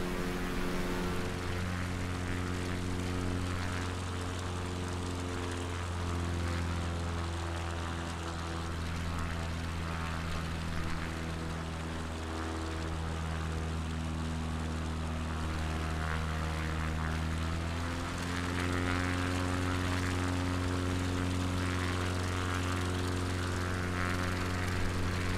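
A small propeller airplane's engine drones steadily from inside the cabin, a constant hum with a deep throbbing tone that holds throughout, with slight shifts in pitch partway through.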